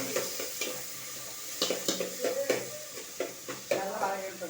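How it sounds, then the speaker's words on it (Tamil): Tomatoes, onions and green chilies sautéing in hot oil, with a steady sizzle and repeated scraping stirs of a spoon against the pan, close and moderately loud. "நல்லா வதக்கி எடுத்துங்க."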